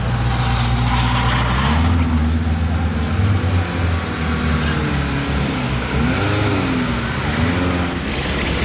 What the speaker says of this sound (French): Les deux voitures Qatari en convoi.